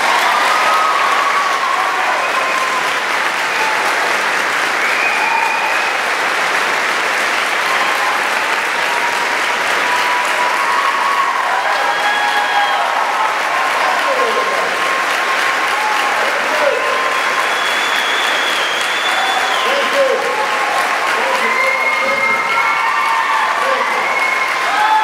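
A large crowd welcoming Barack Obama to the stage claps steadily for about 25 seconds, with cheers and scattered whistles rising through the dense applause.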